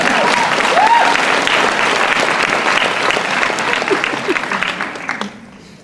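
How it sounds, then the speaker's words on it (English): Convention audience at a fan panel breaks into loud, dense applause with some cheering, sustained for several seconds before tapering off, with a brief voice near the start. "round of applause to you"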